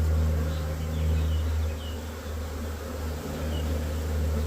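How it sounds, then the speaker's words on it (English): A caught honeybee swarm clustered on the front of a new eight-frame hive box, droning in a loud, steady buzz close by with no voices. "This pile of bees on the front will eventually figure out that that's where they've got to go."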